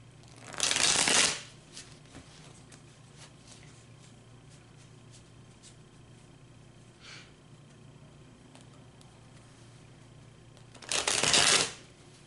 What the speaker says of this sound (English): Give it a really good shuffle here.